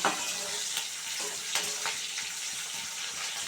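Prawns frying and being stirred in a pan, a steady sizzle broken by a few sharp scraping strokes and clinks of the spatula against the pan, moderately close, no voices.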